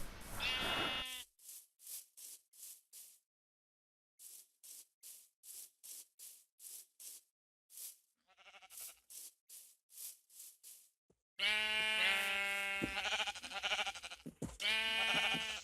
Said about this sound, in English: Finally, sheep.